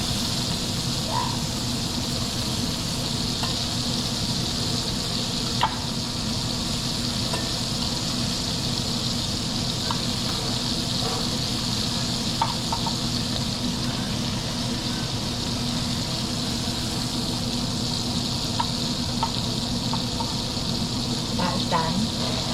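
Steak fries in a pan with a steady, moderate sizzle and hiss that runs unbroken, with occasional small pops and crackles scattered through it.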